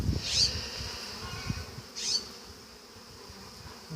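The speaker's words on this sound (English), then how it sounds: "There's freaking yellow jackets already here." Yellow jackets buzz close by around a beehive with a whining drone that rises and fades as they fly past, over a low steady background hum.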